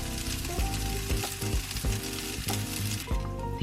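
Vegetarian burgers fry in a lightly oiled pan over low heat, a close, steady sizzle and crackle with recurring low thuds and clatter from the pan.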